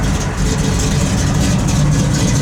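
A 1968 Chevrolet Camaro RS engine idles close by with a lumpy cam, a steady heavy low rumble with a slightly uneven loping pulse.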